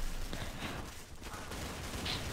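Gunfire in Counter-Strike: Source, sounding as quiet, muffled shots mixed into a dense, noisy background with no clear separate bursts.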